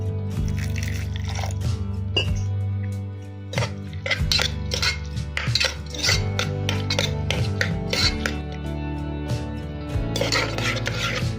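Cooked dal being stirred with a spoon after water is added, repeated clinks and scrapes against a metal pot in an uneven rhythm, close and fairly loud, with wet mixing sounds between strokes.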